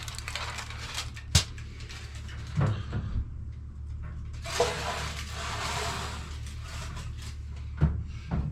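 An oven door opens and shuts with a sharp clunk as a tray of Jamaican jerk chicken wings goes in, followed by a few softer knocks and a long airy rush of oven noise in a quiet kitchen.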